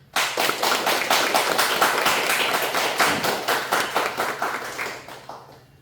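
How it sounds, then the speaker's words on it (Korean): Church congregation claps in encouragement during a farewell moment, a steady run of distinct, fairly rhythmic hand claps that starts abruptly, holds loud, then thins and fades near the end. "박수로 좀 격려를 해주시면 고맙겠습니다"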